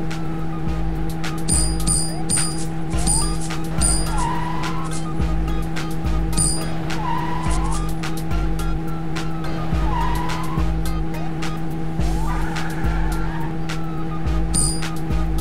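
Cars chasing each other in the Hippo driver cartoon game for kids, with a steady engine drone and repeated short tire squeals from skidding, plus game chimes, loud and continuous.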